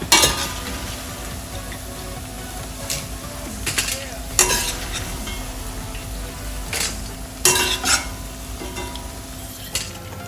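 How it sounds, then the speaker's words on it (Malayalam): Cauliflower gobi pieces frying in hot oil give a steady close sizzle throughout, with occasional louder bursts of stirring and scraping in the pan; no voices. "ബാക്കിയുള്ളതും കൂടെ ഇതുപോലെ ഫ്രൈ ചെയ്തെടുക്കാം"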